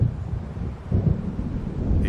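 Rumbling thunder from an approaching storm in Alan Wake Remastered, a low, steady roll with wind and a heavier swell near the middle, no voices.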